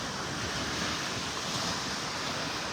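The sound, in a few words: ocean waves on beach in North Naples, Florida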